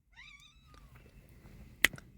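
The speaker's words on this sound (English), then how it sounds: "excuse the cat" A house cat gives one rising-and-falling meow, followed by a fainter trailing tone and a sharp click near the end, close and fairly quiet.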